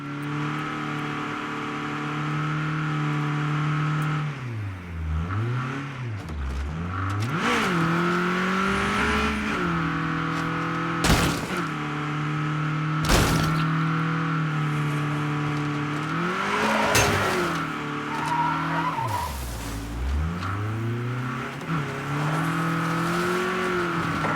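Car engine in the State of Decay 2 zombie survival game, droning steadily with several rising and falling revs as the vehicle drives, plus a few sharp knocks and bumps, close and continuous, no talking.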